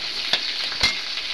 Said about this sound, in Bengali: লাল লাল করে ভাজতে হবে ডালটা।